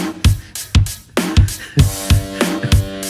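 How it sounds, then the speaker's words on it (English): A punchy drum machine rock kit preset: booming kicks and sharp snare hits in a steady pattern, with ringing tonal decay between hits and no voices. "And this the rock kit."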